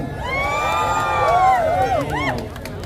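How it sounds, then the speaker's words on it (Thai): A crowd at a boxing event cheers and whoops loudly for a boxer named Phil, with shrill excited voices rising over an announcer's amplified speech. "ขอเสียงของเชียร์ฟิลหน่อย"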